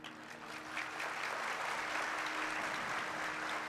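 Audience applause in a Hindi religious discourse hall on the Dharma Puran, steady dense clapping filling the whole stretch at moderate level, with no talk over it.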